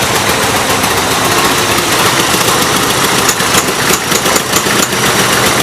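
The engine of a 424 tractor runs loudly and close by in a rough, continuous chugging rhythm, with sharp ticking bursts toward the end and no speech.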